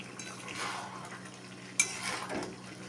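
Chicken and potatoes are stirred in a pan over a medium gas flame, with soft scraping and a gentle sizzle, then a sharp metallic clink as a lid goes on. Everything is faint and close, with no voices.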